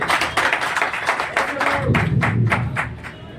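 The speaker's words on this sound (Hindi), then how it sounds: "संजय कुमार मिश्रा इनके लिए जोरदार ताली पर लगाते हैं" An audience at a Human Rights Day gathering in Manpur claps in a quick, even rhythm of sharp hand claps over a few seconds, with a voice talking over the start.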